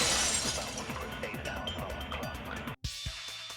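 A vase shatters in Danganronpa 2, a bright crash of breaking ceramic with scattered fragments tinkling for a few seconds before a sharp cutoff and a quieter tail.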